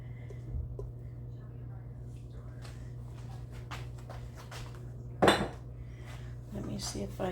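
A utensil scrapes and clinks against a casserole dish while a cream cheese, sour cream and ricotta mixture is spread, soft intermittent scraping over a steady hum, with a louder clatter partway and quiet talk.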